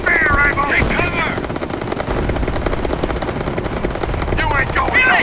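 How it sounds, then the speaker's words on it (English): Machine-gun fire rattles continuously through a Company of Heroes D-Day campaign battle, with dense overlapping bursts, louder flurries at the start and end, and shouted voices mixed into the chaos. "We're taking fire here!"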